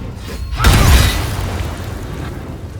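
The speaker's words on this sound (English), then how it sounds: "Now we can booming blade." A Booming Blade spell attack in Baldur's Gate 3 lands as a single deep boom with a sharp burst and crackle, then decays into a lingering rumble.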